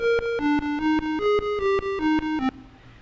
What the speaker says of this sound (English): the last trick you can use is single channel echo